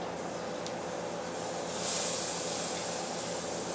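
Teriyaki-coated food pieces are turned over in a hot pan and give a continuous, even sizzling hiss that swells briefly midway, with no talk.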